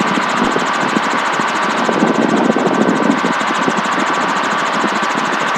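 A traffic helicopter flies at 500 feet along the shoreline of Florida's Space Coast, droning steadily, its rotor thumping in a fast, even pulse beneath a constant engine whine.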